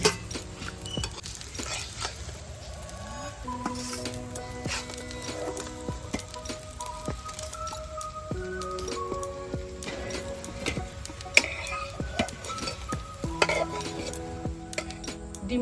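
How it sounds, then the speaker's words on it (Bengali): An egg frying in a pan gives a soft, steady sizzle, while a utensil repeatedly scrapes and clinks against the pan in irregular bursts, with close, sharp metallic knocks scattered throughout. "ডিমটা আমার ভাজা হয়ে গেছে।"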